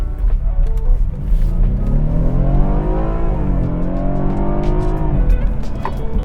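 A BMW 328i wagon's engine revs hard under acceleration on new tires, its pitch climbing steadily, dipping at a gear change, then rising again, loud and close with road noise beneath.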